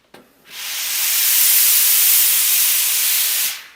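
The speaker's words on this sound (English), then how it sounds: "The Laura Star system, that's kind of what they're all about. It's this ultra fine steam and a lot of it." A Laurastar iron system releases ultra fine steam in a strong continuous hiss that starts sharply after a small click, holds loud and steady for about three seconds, then cuts off.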